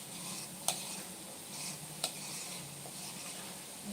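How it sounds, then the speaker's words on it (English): A spatula scrapes matcha tiramisu mixture made with Greek yogurt out of a bowl, giving soft, quiet scratchy strokes broken by a couple of sharp little ticks. "Emptying out the bowl vertically, scraping out every last bit of it."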